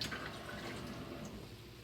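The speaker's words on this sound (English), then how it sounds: "So I'm going to put in 1/2 cup of water." Water poured into a jar of Everclear for a goldenrod tincture, a faint steady liquid stream with light splashing, quiet and close, continuing without talk.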